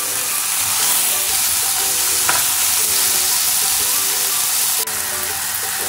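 Finely chopped onion and tomato sizzle loudly in hot oil in a pan, a steady dense frying hiss with faint stirring scrapes, close up and continuous.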